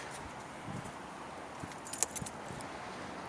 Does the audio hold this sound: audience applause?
no